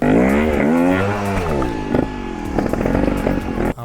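A Vertigo Nitro trial motorcycle climbs a ramp at a trial school, its engine loud and close, pitch sweeping up and down in revs before cutting off abruptly at the end.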